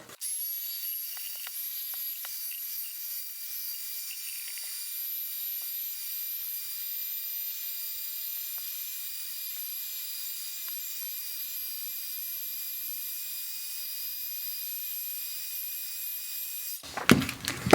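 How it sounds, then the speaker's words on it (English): A heat gun shrinking a shrink-wrap sleeve onto a glass sublimation water bottle: a steady, high, airy hiss from a close blower that runs without a break for over sixteen seconds, then cuts off with a few handling knocks. "I'm just gonna use a heat gun to shrink it up."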